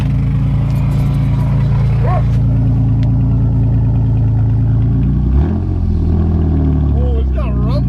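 A straight-piped car engine idling with a loud, deep, continuous rumble that swells briefly as it revs, recorded close up while people talk over it.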